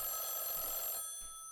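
An electronic telephone ring inside the horror game Echostasis, one shrill buzzing ring burst that cuts off partway, faint and slightly distant.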